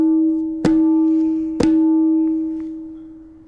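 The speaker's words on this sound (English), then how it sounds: "So tun. Very open bell-like tone, sometimes reinforced" Two open tun strokes on a tabla ring out alone, each a sharp attack followed by a long, clear bell-like sustained tone, the second struck about a second after the first and decaying slowly.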